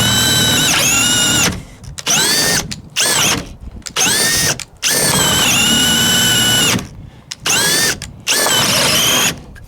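A compact 1/2 inch cordless drill, Makita or DeWalt 18/20 volt class, bores a hole in loud whining bursts that rise and sag under load, stopping and restarting several times with short gaps, close and with no talk.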